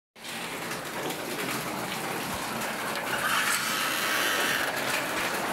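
Heavy rain during a typhoon pouring down steadily outdoors, a broad, dense hiss that starts abruptly and swells slightly louder toward the end, with no voices over it.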